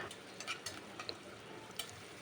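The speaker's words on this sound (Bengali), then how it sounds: "তো দেওয়ার পর আমি এগুলো ভাজতে থাকবো।" Chopped onion, garlic and green chillies fry in a pan for a masoor dal and Malabar spinach curry, a faint, soft sizzle with a few light ticks and scrapes of stirring.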